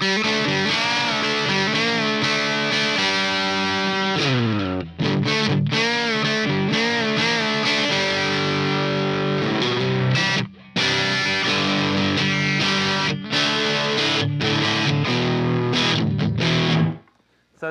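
Electric guitar played with a country twang through a Dr. Z Carmen Ghia amp, with a booster pedal, giving fast bright picked licks and bends, loud and continuous with brief breaks and no talk.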